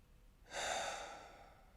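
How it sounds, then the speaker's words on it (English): During a guided breathing exercise, a single soft, deep exhale rises and then slowly fades over about a second. It is quiet, close and alone, with no talk. "Breathe with me. Exhale it out."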